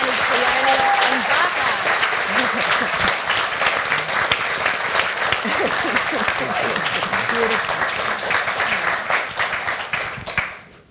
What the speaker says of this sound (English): I'm going to ask everybody to give our panellists a big round of applause.